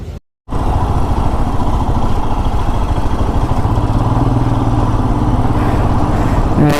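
A motorcycle ridden on an open road in India, heading out of Ahmedabad on a long Mumbai-to-Ladakh trip, with its engine droning loudly and steadily against rushing wind after a brief silence at the start.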